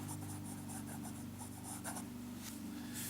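A nicely restored vintage Sheaffer Snorkel fountain pen with a fine nib writes on paper, giving a steady close scratchy rubbing of short strokes over a constant low background hum.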